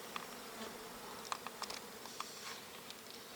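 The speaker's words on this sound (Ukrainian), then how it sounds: "Працюють і гудуть на жовті акації" Honeybees work yellow acacia blossoms in an old unsprayed orchard, their steady faint hum punctuated by brief louder buzzes as individual bees pass close, with no voices.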